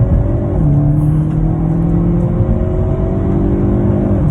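2021 Hyundai Veloster N with 8-speed DCT accelerates hard from inside the cabin, engine pitch rising in a loud steady drone with quick gear changes dropping the tone.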